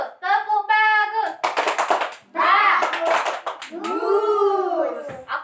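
A second-grade elementary class of children performs a rhythmic praise clap in a classroom, with sharp patterned hand claps mixed with the children's chanting voices, loud and close.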